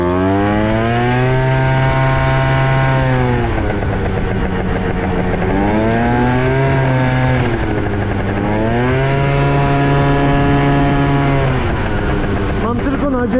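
A scooter engine drones close and loud while riding, its whining pitch repeatedly rising with acceleration and dropping off, steady wind noise beneath and a person talking at times.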